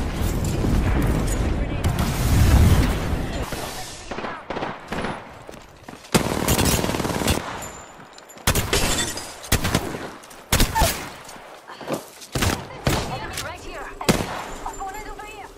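Bursts of gunfire in the battle royale game Apex Legends, loud and close, with rapid automatic volleys, single cracks and booms broken by short gaps, under occasional talk.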